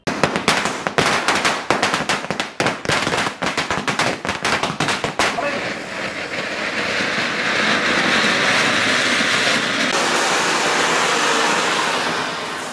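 Firecrackers bursting during Diwali celebrations: a rapid, dense string of sharp cracks for several seconds, giving way to a sustained hiss and rumble of smoke-laden crackling that stays loud to the end.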